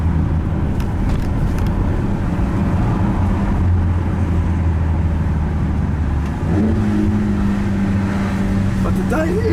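BMW X5M F85 with a 575 hp engine and automatic gearbox, driven through Stockholm city streets: a steady close engine drone with small pitch steps as it downshifts, voices talking over it.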